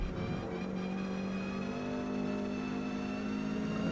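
A Ford Cortina racing at Grand Oak Raceway in the Forza Motorsport video game, its engine droning steadily at high revs and rising slightly in pitch as it accelerates down a straight, loud and continuous.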